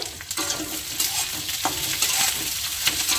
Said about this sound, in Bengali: ক্যাপসিকামটা একটু ভেজে নেবে